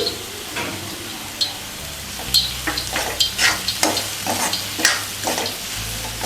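Cauliflower paratha filling being stirred and mixed together with chopped green chilli, a steady run of soft scraping and clinking stir strokes close by, with no talk over it.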